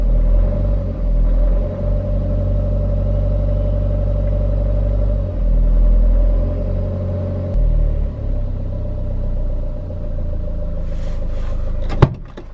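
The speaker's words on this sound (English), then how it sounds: "Seems to idle right now." Renault 1.9 dCi diesel engine idling steadily after its first start following a valve clearance job, a loud continuous low rumble with an even hum that holds throughout, ending with a sharp click near the finish.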